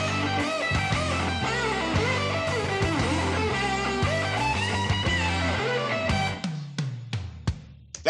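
Reamped direct electric guitar signal played back through a real amplifier, a busy melodic line of notes over a low bass part that runs steadily, then thins into sparse plucked notes with decaying ring near the end.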